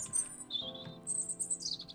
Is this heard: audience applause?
no